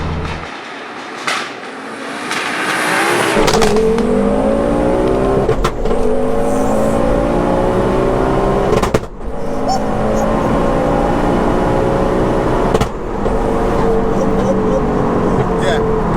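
A 530bhp big-turbo Ford Focus ST with a 5-cylinder engine and 4WD swap accelerates hard, its loud rising engine note climbing through gears with brief dips at shifts, filling the interior continuously.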